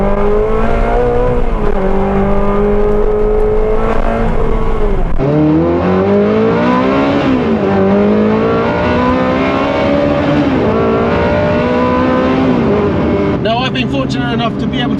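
Ferrari 360 CS downshifting, its engine blipping and then pulling hard through the gears with rising, wailing revs, loud and close from inside the car.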